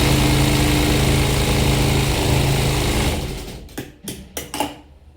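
Sewing machine stitching a blouse, a loud steady mechanical whir for about three seconds that then stops, followed by a few short scattered handling clicks.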